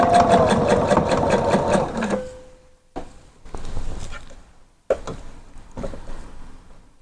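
A sewing machine runs a skirt seam in a fast, steady whirr for about two seconds, then stops; shorter bursts and handling clicks follow in separate spurts.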